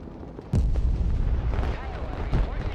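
Cruise missile strikes in a military strategy video game, a sharp boom near the half-second mark followed by a sustained rumbling barrage with further heavy impacts, loud and dense throughout.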